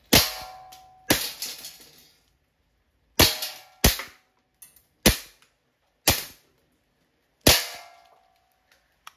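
Seven sharp shots from a Walther PPK/S full-metal blowback airgun pistol, each with a short ringing decay, fired at irregular intervals with quiet gaps between them.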